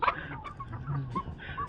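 Chickens cluck in short, soft bursts nearby, scattered across a quiet moment with no talking.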